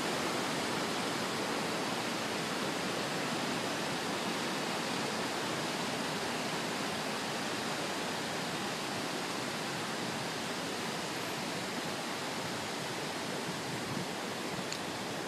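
Steady, broad rushing water roars without a break, a dense constant wash of water pouring over a dam nearby, with no voices.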